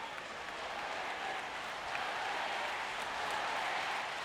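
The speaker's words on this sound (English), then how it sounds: "The Brazilian crowd out in force to support" Steady applause from a large Brazilian crowd at the Rio 2016 Paralympic swimming pool during a men's freestyle event, a dense continuous wash of clapping and crowd noise heard from a distance.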